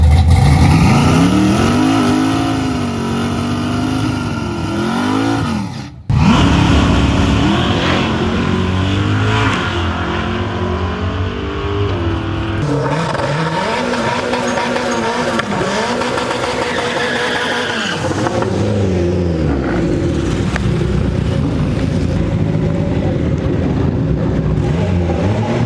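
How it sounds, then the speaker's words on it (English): A turbocharged budget-build Honda Civic launches at a drag strip. The engine revs hard and loud, dips sharply for a moment, then pulls through rising and falling gear sweeps as the car accelerates away, with no talk over it. "So the car hooked immediately, but it just bogged right after."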